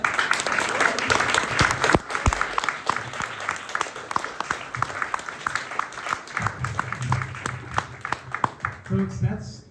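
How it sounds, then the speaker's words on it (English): An audience applauds after a poetry reading at the AWP conference, steady dense clapping from a sizable crowd that carries on for several seconds and tapers at the end, with some voices mixed in. "Why don't we give everyone another round of applause?"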